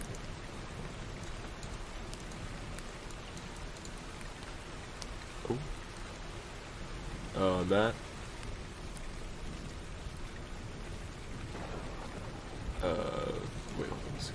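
Steady rain ambience played from a sound app, a continuous soft hiss of falling drops that runs the whole time beneath occasional brief voices and small bumps.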